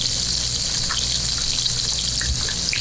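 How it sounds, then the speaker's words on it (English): Fresh salmon sears in a hot pan with a loud, steady hiss and crackle, spitting pops scattered through the constant sizzle and no talking. "Nice sizzle."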